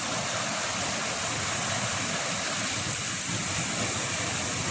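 Steady rushing flow of a water feature in a park pond with fish and rocks, a continuous broadband splash with no breaks, fairly close and alone without talk.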